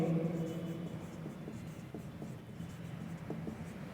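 Chalk or marker scratches faintly on a board during a math lesson, soft short strokes and taps in a quiet room with no talk.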